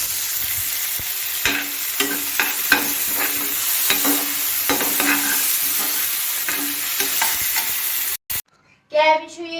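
Onions and tomatoes fry in a pan for an egg dish, a loud close sizzle broken by repeated spatula scrapes and clanks, then a brief pause and a short burst of a voice at the end.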